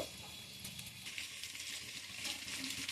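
Ivy gourd pieces fry in a hot pan with salt and turmeric, giving a steady, close sizzle with soft crackling throughout and no voices.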